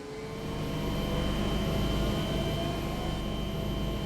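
Canadian Coast Guard helicopter lifting off, a loud steady turbine whine and rotor roar that swells in the first half second, then holds close and constant with no talk.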